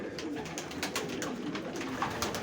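Breeding pigeons in a loft coo in soft, overlapping repeated calls, a busy flock murmur heard close with no talking over it.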